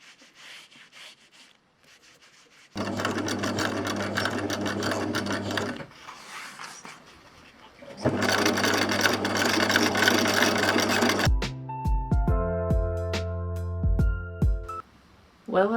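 A sewing machine stitches the sleeves of an Attack on Titan cosplay jacket in two long, loud, steady runs with a pause between them, followed by rattling handling sounds.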